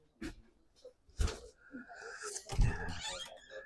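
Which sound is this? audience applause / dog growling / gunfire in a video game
dog growling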